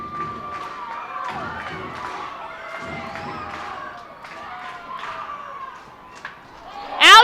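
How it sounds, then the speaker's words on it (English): Minor league baseball crowd at a Harrisburg Senators versus Reading Fightin Phils game roaring after back-to-back home runs, a broad sustained cheer under an announcer's voice, with a sharp thump near the end. "The crowd roaring here for Stokesy."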